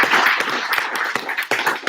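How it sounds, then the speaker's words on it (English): Audience at a meeting clapping, a short sparse patter of hand claps with a few sharper individual claps standing out, close and fairly loud. "Yeah, give it a clap."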